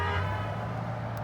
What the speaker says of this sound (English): Homeboy just honked at us